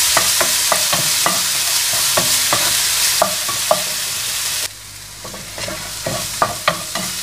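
Ginger garlic paste fries in a pan for a dry chicken dish, sizzling loudly and steadily while a spoon scrapes and taps the pan in repeated sharp strokes, with a brief dip in level partway through.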